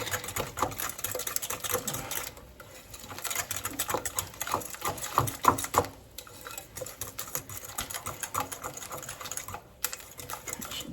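A single egg is whisked in a bowl for banana muffins, producing a rapid, fairly quiet clicking and tapping that runs continuously with a couple of brief pauses.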